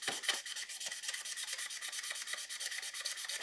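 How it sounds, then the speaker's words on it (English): Sandpaper, around 320 grit, rubs against a spinning wooden pen blank with swirling, knotty grain on a lathe, making a close, continuous rhythmic hiss that pulses rapidly and evenly, with no voices. "So now I'm just going to sand."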